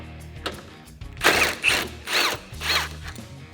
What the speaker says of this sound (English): grab your 10mm socket and remove the bolt that's right next to it